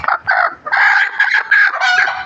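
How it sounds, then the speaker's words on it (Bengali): A black chicken that is blind in one eye calls out loud and close in a farmyard, with a crowing, strained cry broken into several clucking pulses across the whole stretch. "আর এই হচ্ছে আমার কালা মুরগিটা"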